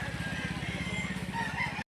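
Roosters and chickens at a chicken market in Lipa, Batangas make a crowing and clucking chorus amid busy market noise, a steady dense mix at moderate volume that cuts off abruptly.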